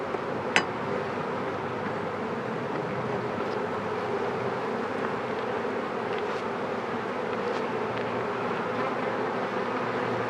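Honey bees hum steadily and close by during a beehive inspection, a continuous even buzz lasting the whole stretch with a brief click near the start.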